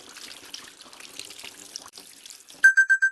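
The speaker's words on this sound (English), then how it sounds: "Press the open faucet button to start the water." Water runs from a sink faucet in a VR training simulation, a faint steady hiss and trickle, ending with four loud, evenly spaced electronic beeps.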